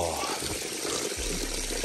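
Water runs and splashes steadily in a glacier-fed mountain stream in Valhalla Provincial Park, British Columbia, a continuous close rushing wash with a brief gulping dip midway.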